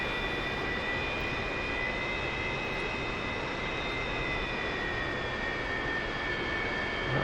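Jet engine of a JAS-39 Gripen in a flight-simulator mod, flying at low altitude: a steady, loud, unbroken roar with a high whining tone held throughout, no voices.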